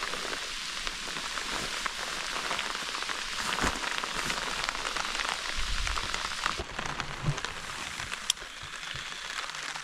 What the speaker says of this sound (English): It's raining, and that cold front is coming in